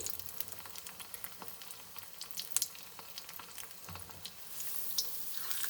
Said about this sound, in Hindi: ये एक कढ़ाई में हम लोगों ने तेल गरम कर लिया है और इनको अब हम लोग फ्राई करेंगे।